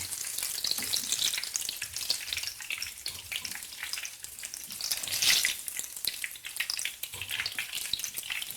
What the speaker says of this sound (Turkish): Evet köftelerim kızardı.